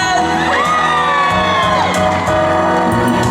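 An audience at an outdoor temple festival concert in Zhongli claps and screams together, a dense, steady wall of whoops and shrill cheers with scattered sharp claps over a low musical backing.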